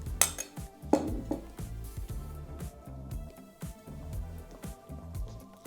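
Strawberry-flavoured cupcake batter being mixed in a bowl, a utensil repeatedly clinking and scraping against the sides in a soft, steady rhythm, quiet and close.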